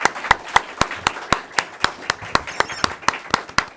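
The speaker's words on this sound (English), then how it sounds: "Applause for these great researchers." An audience applauds researchers at the Wilson China Fellowship Conference 2024, with sharp, evenly spaced claps about four per second and no talking.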